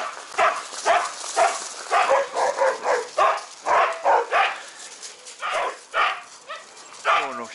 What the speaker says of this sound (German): Sind ja noch mehr Hunde.